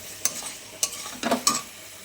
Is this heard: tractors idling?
no